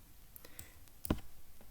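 A computer mouse clicks while drawing in LibreCAD: a few faint ticks, then one sharper close click near the end of a short, quiet stretch with no voice.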